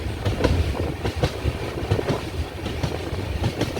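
The KSR Bengaluru Express, a daily service hauled by a WP7 locomotive, runs along the rails with a steady, rhythmic clickety-clack of wheels over rail joints and a constant low rumble heard close by, with no talking.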